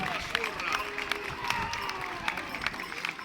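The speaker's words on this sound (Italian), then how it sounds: "Facciamo un applauso, bellissimi!" A crowd applauds at an outdoor Sardinian carnival in Ula Tirso, greeting masked figures wearing belts hung with cowbells; steady, moderately distant clapping runs throughout with cheering and crowd chatter mixed in.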